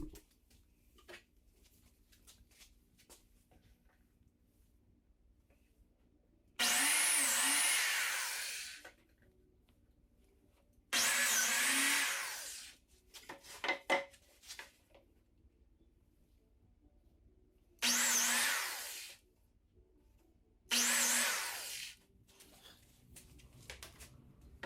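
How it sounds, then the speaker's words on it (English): Biscuit joiner plunging slots into wood for a DIY truck bed extender, four separate loud whining bursts of a few seconds each, separated by quiet handling noises and pauses. "go ahead and cut my biscuit slots"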